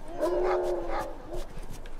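Dogs in The Last of Us video game bark and yip a few times at moderate distance, with a whining, tonal quality and slightly synthetic sound, over quiet background noise.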